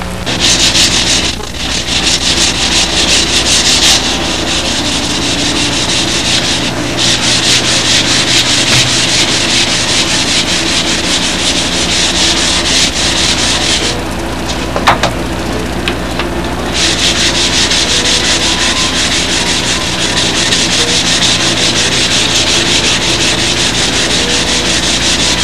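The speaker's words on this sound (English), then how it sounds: "We sanded" Steady hand sanding of wood for a sidewinder build outdoors in windy conditions, a continuous rough rubbing and scraping that runs throughout with brief pauses, mixed with wind noise on the microphone.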